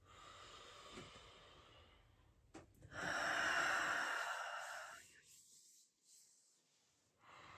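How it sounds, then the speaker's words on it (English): A person taking deep breaths during migraine self-care, a long, soft, close inhale-exhale with airy hiss that swells and fades, plus faint rustling, over quiet room tone. "So I'm going to take a few other deep breaths here."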